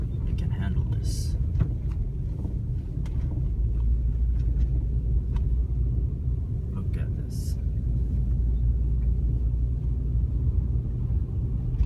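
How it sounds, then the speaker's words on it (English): A car crawls slowly along a snowy road in a blizzard, giving a constant low engine and road rumble close by, with occasional faint clicks and soft rustles over it. "I'm driving very slow"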